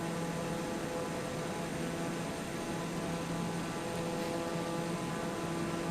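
Steady propeller airplane engine drone from the flight game Microsoft Flight Simulator 2020, a constant broadband hum with low tonal lines holding level and loud throughout, with no talking.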